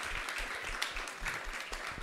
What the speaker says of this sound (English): A round of applause for all our speakers here on stage.